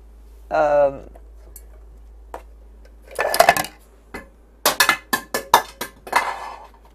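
Plastic food processor lid dropped in a home kitchen, giving several sharp clattering knocks and rattles that bounce and settle, with a voice heard briefly just before them.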